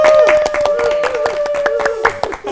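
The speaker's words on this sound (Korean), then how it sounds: "김석훈 씨께 감사의 박수" A small studio audience on a church talk programme claps in thanks for guest actor Kim Seok-hoon. The sharp, close claps sound over a sustained tone and light voices.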